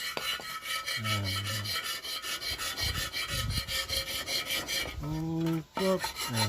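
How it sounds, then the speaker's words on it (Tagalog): A hand file rasps over a rusty, pitted motorcycle exhaust pipe in steady back-and-forth strokes, close and fairly loud. A voice cuts in briefly over the filing. "Kaya gamitan natin siya ng kikil na ganito."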